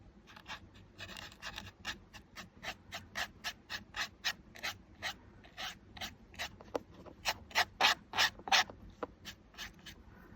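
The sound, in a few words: small brush brushing off embossing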